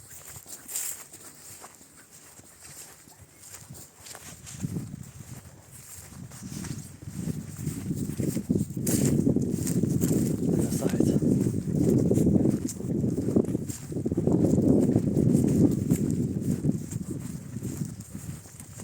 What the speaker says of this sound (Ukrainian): ну ці коні вони файно бігають